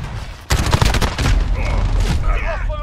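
M4 rifle with attachments firing in Call of Duty Modern Warfare, a loud sudden burst of rapid shots that gives way to continuing game noise and faint effects.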